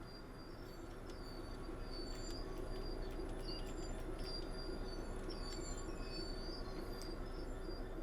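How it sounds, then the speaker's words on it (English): Train wheels rumble and clatter steadily over track switches in Train Sim World 3, a loud continuous rolling noise with faint squeals and clicks layered on top throughout, no voices. "It's quite loud, these switching of tracks."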